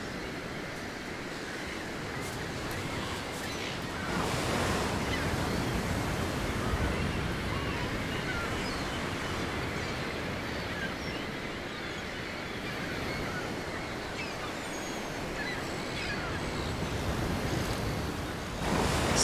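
Surf washes steadily onto a beach at night where little penguins come ashore, a broad continuous roar with gusts of wind buffeting the microphone and no voices.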